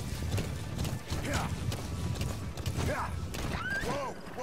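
Horse hooves clip-clop in Metal Gear Solid V: The Phantom Pain, a steady trot running throughout, with creaky mechanical sounds and a brief whinny-like sweep, while someone talks over it.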